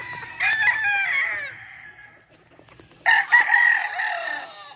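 Boston white chickens, a hen and pullet, with a rooster crowing loudly and close by, two long drawn-out crows separated by a brief quiet gap, plus faint clucking in the background and no speech.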